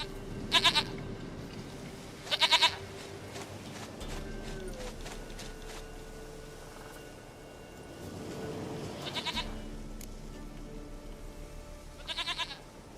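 A goat in The Witcher 3 video game gives four short, sharp bleats spaced a few seconds apart over quiet ambient game sound, with faint hoof clopping nearby and no speech.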